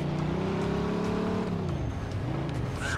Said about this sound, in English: car chase, I like it.